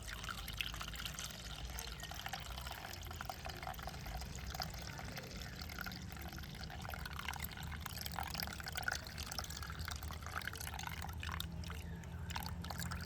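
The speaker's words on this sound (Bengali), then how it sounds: "এবারে এই যে উপরের জলটা আমি একটা পাত্রের মধ্যে ফেলে দেব" Water poured slowly off settled homemade cornflour into a bowl, a steady soft trickle and splash running continuously at close range with no talking.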